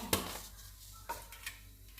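Panch phoron spices in hot oil left from frying potatoes, a faint, steady sizzle broken by a few sharp clinks of a spoon against the pan.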